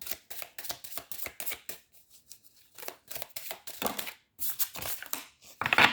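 Oracle cards being shuffled and drawn, giving a run of quick papery riffles and flicks with brief pauses, close and fairly quiet, with no talking.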